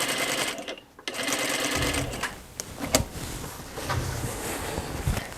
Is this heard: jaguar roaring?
no